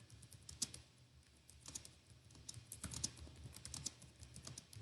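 Fast, fairly faint clicking of keys on a computer keyboard, an irregular patter of light taps over a low background hum.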